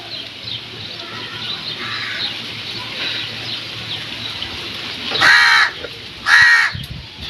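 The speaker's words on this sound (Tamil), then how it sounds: "பாருங்கள் காக்கா கூட பனம்பழம் கேட்குது" Two loud, harsh crow caws close by, about a second apart, over a soft background hiss.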